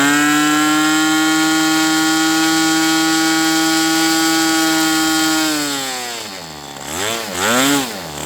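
A Magnum 65 GP model airplane engine turning a three-blade propeller, a loud, close, steady buzzing drone that holds constant before the revs drop and then swing up and down as the throttle changes.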